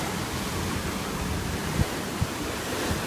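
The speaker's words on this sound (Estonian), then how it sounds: "Merelt tuleb laine." Continuous roar of heavy ocean waves coming in off the sea along an Australian shore, wind rumbling across the microphone, with a few brief low thumps of surf surging through a channel.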